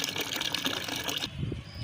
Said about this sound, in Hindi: ये इस तरह से पानी भर लिया है इस बकेट में